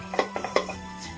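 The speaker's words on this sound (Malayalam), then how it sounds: "സോ നന്നായിട്ട് മിക്സ് ചെയ്തതിന് ശേഷം നമുക്ക് പാത്രം ഒന്ന് അടച്ച് വയ്ക്കാം" A metal pot lid is set down and closed over a pan of bitter gourd stir-fry, giving a few close, sharp clinks and clatters in a short burst, with no talking.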